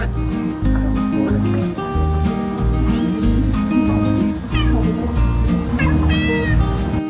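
A cat in Karakol, Kyrgyzstan, gives a couple of short rising meows over a dense, steady background of music-like sound.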